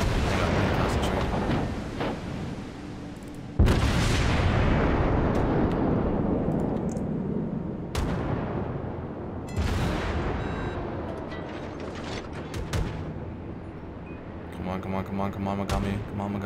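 Heavy naval guns of the German battleship Tirpitz in World of Warships fire in big booming salvos, sharp broadband blasts at about 3.5, 8 and 10 seconds rolling into long rumbling decays, with a voice talking over the battle.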